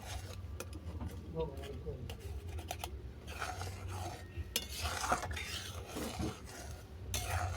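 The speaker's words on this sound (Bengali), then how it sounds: "আবার আমি এটাকে ভালো করে নেড়ে ছেড়ে দিলাম" A spoon stirs sweet potato payesh in a cooking pot, giving intermittent scrapes and clinks against the metal with a soft, steady background hum throughout.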